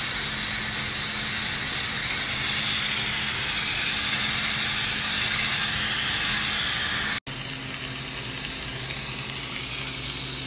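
Salmon and shrimp sizzling in a covered pan with seasoning, a dense steady frying hiss close up that breaks off for an instant and then carries on.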